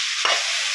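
Boiled gokarakaya (cluster beans) dropped into hot oil for an egg curry, giving a short burst of sizzle over a steady hiss of frying, close and fairly loud.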